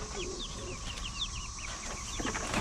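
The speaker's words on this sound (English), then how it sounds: "And here's those Easter eggers and those Japanese bantams and those black silkies." Easter egger, Japanese bantam and black silkie chickens make soft chirping peeps and quiet clucks close by, several short calls scattered over a steady background hum.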